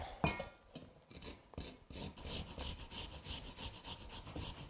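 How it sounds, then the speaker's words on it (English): A garlic clove is scraped across a microplane grater in a home kitchen, a quiet run of rapid rasping strokes in an even rhythm, with no voices. "grate 1 garlic clove right in. I'm using a microplane"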